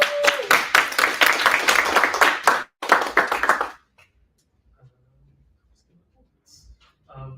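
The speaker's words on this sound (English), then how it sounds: "So let's please give her a huge round of applause." Audience applause bursts out loudly at a gaming pitch event, dense clapping that stops briefly, resumes, then cuts off into near silence.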